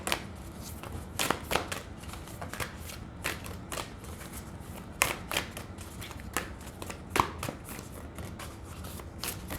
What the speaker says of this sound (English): About to say a couple more shuffles, then we'll take a card.